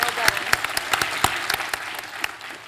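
Audience applause at an elementary school spelling bee, a steady patter of many hands clapping for a few seconds at moderate level, with brief voices faintly mixed in.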